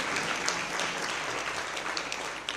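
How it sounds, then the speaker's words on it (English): An audience applauds continuously at a televised talk-show event, a dense, steady, moderately loud patter of many hands throughout. "And Prof. Motshekga, you can applaud that."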